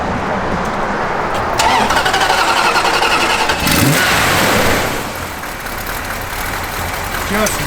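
A 1972 Plymouth Duster engine runs loud and close, its throaty exhaust swelling in a couple of revs before easing back to a steady idle.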